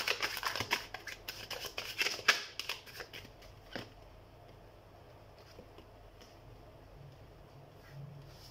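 Tarot cards are shuffled and drawn by hand, giving dense, rapid riffling and flicking bursts for about four seconds, then faint, sparse handling sounds in a quiet room.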